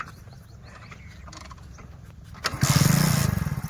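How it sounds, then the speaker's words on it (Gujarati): A motorcycle kick-started in one go, with a quiet mechanical rattle before the engine suddenly catches and settles into a loud, rapidly chugging idle close by. "તમે તો એક કીકે ચાલુ કરી દીધું બાઈક"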